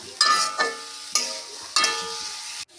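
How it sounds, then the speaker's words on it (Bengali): Coconut filling with milk is stirred in a pan: four scraping sweeps of a spoon over a light simmering sizzle, close and fairly loud, without speech. "দুধ দিয়ে একটু নাড়াচাড়া করে নেব যতক্ষণ করতে আমাদের পুর তৈরি"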